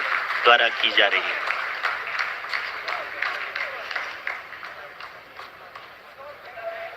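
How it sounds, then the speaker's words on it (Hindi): Scientists applaud in a mission control room as the lander's descent phase completes, steady clapping beneath a commentator's voice, fairly faint and continuous throughout. "आप इस तालियों के गड़गड़ाहट को सुन सकते हैं"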